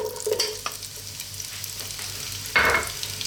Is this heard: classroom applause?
no